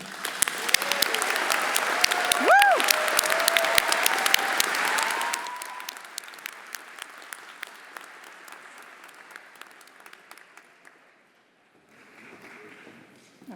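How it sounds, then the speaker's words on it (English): Audience applause at a 2025 business school specialty masters commencement ceremony, a loud sustained round of clapping that fades out after about five seconds, followed by quieter room sound and a brief later spatter of claps. "join me once again in recognizing Professor Van Hoover with another round of applause"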